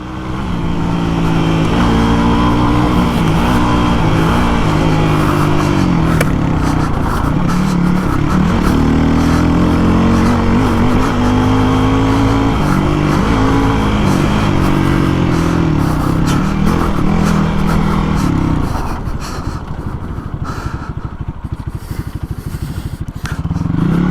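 A Hero XPulse 230 big bore motorcycle engine drones loudly and close while riding, pitch rising and falling with throttle and gear changes, easing off toward the end.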